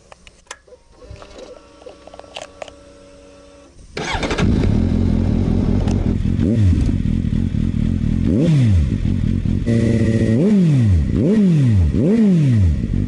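After a few faint clicks, a Suzuki GSR750 motorcycle engine starts and revs loudly, its pitch sweeping up and down repeatedly as it rides off.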